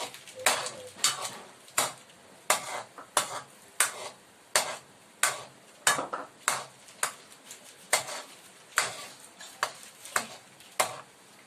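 A spoon stirs mussels with pepper in a pot of buttered garlic red sauce, knocking against the metal in a steady clinking rhythm about once a second, clear and close.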